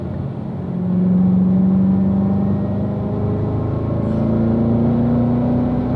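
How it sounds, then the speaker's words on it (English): Race car engine at Spring Mountain track accelerates hard, a steady rising whine climbing in pitch then dropping briefly as it shifts up to fifth gear, loud and close throughout with no speech. "Squeezing in the power. Up to 5th gear"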